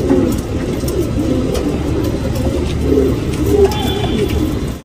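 Tournament pigeons in a Bangalore loft cooing steadily, several birds' low throaty calls overlapping loudly and close, with a faint rumble in the background.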